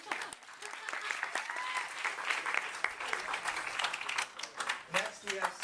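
Audience applause at a Democratic primary debate, a dense steady clapping crowd lasting throughout with a few louder cheers and whistles mixed in.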